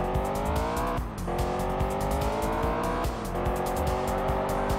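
A racing car in Test Drive Unlimited on PS2: a loud, continuous engine whine held at high revs, with two brief dips where gears shift and the pitch climbs again, plus faint tire noise.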